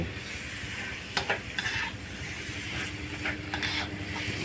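Frog meat stir-fries with holy basil in a hot pan, giving a steady loud sizzle with scraping stirs and a few sharp clanks of the utensil against the pan.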